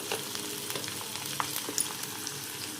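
Garlic sizzling in oil as a tempering for lemon rice, with turmeric and salt added: a soft, steady frying hiss with a few light stirring clicks, fairly quiet and close.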